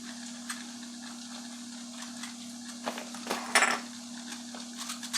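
Green tea and cinnamon stirred in hot water, heard as faint light clinks and scraping taps of a utensil against a vessel, a brief cluster of louder clatter toward the end over a steady electrical hum.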